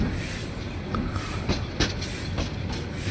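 A train rolls along rails on the line into Bhuapur, a steady loud rumble from inside the carriage with rhythmic clicks and clunks of the wheels over joints.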